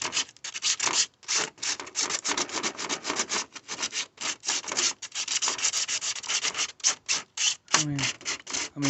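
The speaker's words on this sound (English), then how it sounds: "I'm gonna sand all the pieces" Repeated sanding strokes rub across plastic repair patches on a cracked car bumper, a steady back-and-forth rasp with brief pauses between passes, close and loud with no talking.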